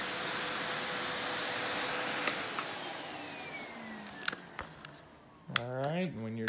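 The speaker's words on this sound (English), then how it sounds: "The suction from this is very strong for a canister." A Tristar MG2 canister vacuum cleaner runs with a loud steady rushing whine, punctuated by sharp clicks and a shifting pitch near the end as the airflow changes.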